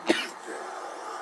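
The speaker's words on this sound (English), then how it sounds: "I'm sorry about the coughing." A single sharp cough rings out at the start, then a quieter throat-clearing noise near the end, both close and alone over a faint steady background hum.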